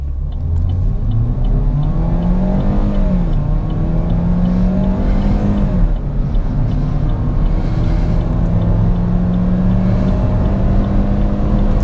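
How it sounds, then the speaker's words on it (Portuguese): A Chevrolet Prisma LTZ automatic roars loudly nearby as it accelerates hard from a standstill, its pitch climbing, dipping at a gear change, then rising again with no talking. "câmbio em drive, vamos segurar no freio e acelerar"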